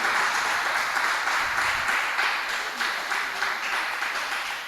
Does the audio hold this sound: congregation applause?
yes